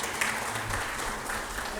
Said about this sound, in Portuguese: Eu bato palmas para você, então.